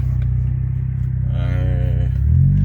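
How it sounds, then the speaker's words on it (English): Car with a DSG DQ200 seven-speed gearbox downshifting after a new clutch, a steady low engine drone inside the cabin that briefly rises in pitch and then swells louder at the end. "This is now a downshift."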